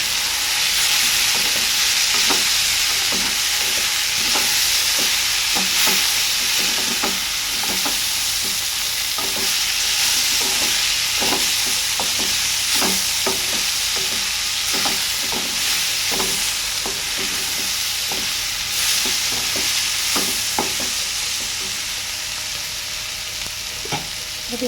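Food stirred in a frying pan with steady sizzling and frequent scraping, clacking strokes of a utensil against the pan, continuous and close for the whole stretch.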